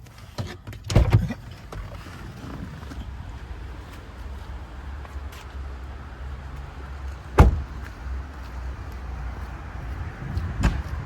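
A car door opens and shuts as a driving examiner steps out of a car parked in a bay: a few sharp knocks and thuds, one louder near the middle, over a quiet steady background hum.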